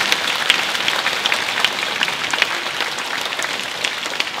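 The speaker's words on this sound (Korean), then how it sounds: "힘찬 박수 보내주십시오" A concert hall audience at a 2024 New Year orchestral concert applauds warmly and continuously, a dense crackle of many hands at a steady moderate level.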